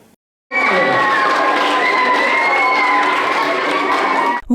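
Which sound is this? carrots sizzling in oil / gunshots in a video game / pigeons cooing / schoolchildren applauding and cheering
schoolchildren applauding and cheering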